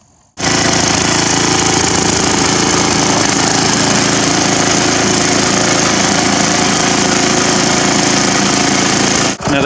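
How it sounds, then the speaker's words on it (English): Poulan garden tiller engine running steadily and loud throughout a test till in a garden row, a continuous rough mechanical roar that starts abruptly and holds nearly constant with no talk. "It's time to go for a test till."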